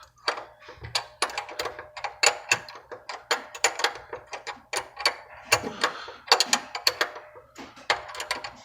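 An adjuster is turned in short repeated ratcheting clicks to push a motor away, each turn a cluster of sharp metallic ticks close up, coming in an irregular steady rhythm with brief gaps.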